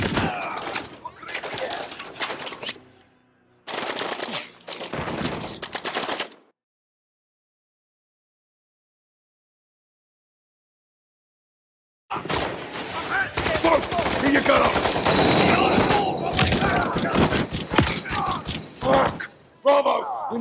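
Bursts of automatic gunfire and explosions from the Call of Duty Modern Warfare 3 finale fill the opening seconds, drop into silence, then return as a dense, loud barrage of rapid shots and impacts with voices shouting beneath.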